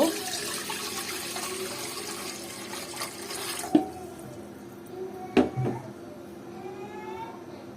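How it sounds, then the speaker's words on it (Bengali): Water pours in a steady splashing stream into a cooking pot fitted with a stand for steaming an egg-and-milk dessert, then stops, followed by a few metallic knocks and clinks of the pot. "এখন এর মধ্যে একটু পানি দেব"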